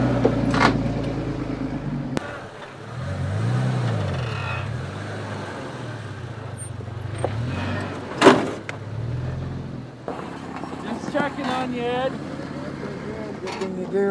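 A Chevy truck in four-wheel high crawls over a rough mountain road, its low engine rumble broken by bumps, clunks and a sharp knock, while people talk inside the cab.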